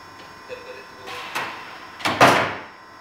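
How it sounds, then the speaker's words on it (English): Landing gear doors on an RC T-45 model jet cycling under an auto sequencer, a series of whirring servo sweeps that grows louder, with the final close the longest and loudest before quiet. "I should see the main doors open, the front nose doors open as well, gear going up, and then everything is closed"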